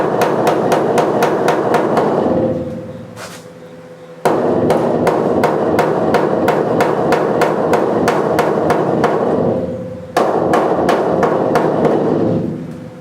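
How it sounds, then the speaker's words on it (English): A hammer strikes the sheet metal of an 86 Chevy C-10 truck cab during cab corner and rear window rust repair. Rapid, loud, evenly spaced taps come in long bursts, with brief pauses between them. "keep pushing and keep hammering on it, just keep tapping it into place"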